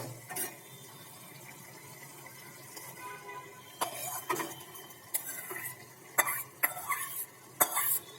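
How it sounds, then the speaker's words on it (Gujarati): Boiled potatoes are tipped into cooked spinach in a pan for dhaba-style palak batata, followed by a spoon stirring and scraping in irregular clinking bursts over a soft sizzle, close up and without talk. "તો ચાલો હવે અંદર જે આપણે બાફીને તૈયાર રાખેલા બટેકા છે તે ઉમેરી દઈએ"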